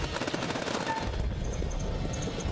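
Rapid automatic gunfire crackles in a military shooter video game, dense bursts of shots rattling continuously over a low rumble of battle.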